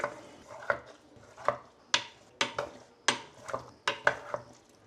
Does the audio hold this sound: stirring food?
yes